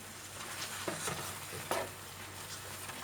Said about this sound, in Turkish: Şöyle karıştıralım.